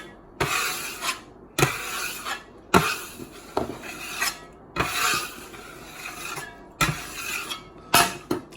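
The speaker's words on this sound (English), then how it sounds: "finish it off with my lovely Campbell's dough knife" A Campbell's dough knife scrapes and pushes a round of high-hydration sourdough across a work surface, giving about seven raspy, rubbing strokes at a steady rhythm, close and moderately loud, with no talking.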